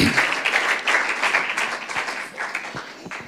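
A church congregation claps together in a dense, lively burst of applause that gradually thins and softens, with a few scattered claps near the end.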